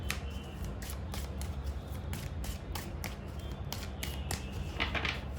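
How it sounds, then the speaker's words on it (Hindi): Tarot cards being shuffled and drawn from the deck, giving a run of quick papery flicks and snaps repeated throughout, fairly close and steady, with no talking. "कुछ कार्ड्स निकालते हैं और देखते हैं।"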